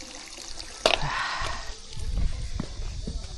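Cold water trickles and splashes from a tap at a Buddhist temple in Cheonan, South Korea, heard close up as a brief splash followed by uneven dribbling and drips.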